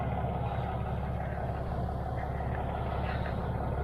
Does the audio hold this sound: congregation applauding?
no